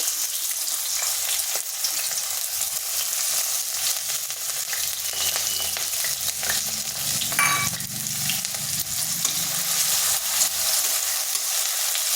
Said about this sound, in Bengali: এরপর পেঁয়াজটা আমি ভেজে নেব।